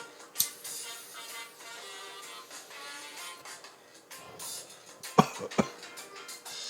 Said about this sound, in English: this is going to make me cough